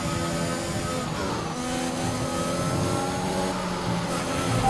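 F1 race car engine in the F1 2021 video game, a sustained high revving drone with shifting pitch as the car accelerates and changes gear, close and continuous.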